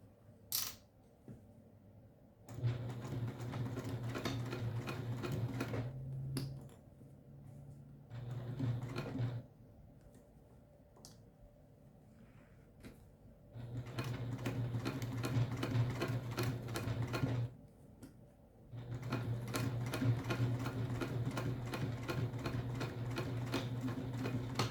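A sewing machine stitching the pieces of a mini backpack together, running in steady humming bursts of several seconds with short pauses between seams, close and moderately loud.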